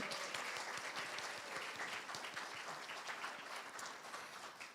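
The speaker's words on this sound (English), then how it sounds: "We should clap." Applause at the first Nova Scotia Book Awards ceremony, a quiet, distant patter of many hands clapping that stays even throughout.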